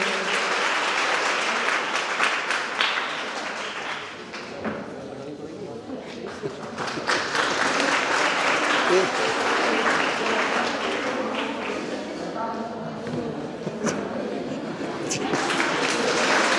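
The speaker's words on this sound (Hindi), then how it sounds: "आप लोगों की तालियां बजती रहे।" Audience at a Viksit Bharat youth connect event applauding, steady dense clapping that dips briefly midway then swells again, with voices talking over it.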